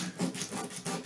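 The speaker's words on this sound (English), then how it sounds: "a little bit of sandpaper. We're just gonna bump it a little." Sandpaper rubbed back and forth on the wooden neck of a 1969 Framus Texan acoustic guitar under repair, giving close, steady rasping strokes in a quick rhythm with no talk.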